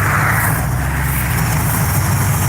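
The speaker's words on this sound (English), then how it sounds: "Listen to Snizzy's truck." Snizzy's custom-built truck idling close by, a loud, steady low engine rumble with a constant broadband hiss over it and no talking.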